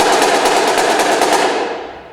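Drumline snares and drums in a marching percussion ensemble struck at one even height with no accents, a dense rapid unbroken roll that sounds loud and close before fading out over about two seconds.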